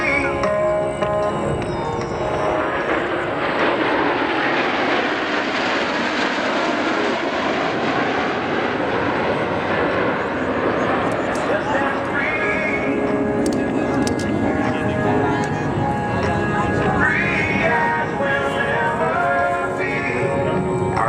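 Thunderbirds F-16 jets in Diamond formation roar past at an air show, a loud sustained jet rush that swells and sweeps across with a shifting pitch, while an announcer talks over the noise.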